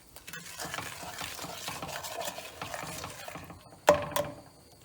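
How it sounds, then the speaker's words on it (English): A spoon stirs cooked raspberries and sugar in a pot, producing a steady wet, soft scraping and churning that runs for several seconds, then stops, followed by two brief clinks of the spoon against the pot, close and with no talking. "Give it a good stir through."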